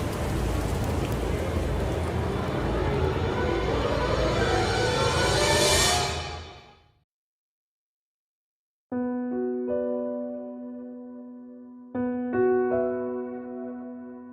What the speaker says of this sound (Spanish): el sonido de la lluvia me ayudó bastante a conciliar el sueño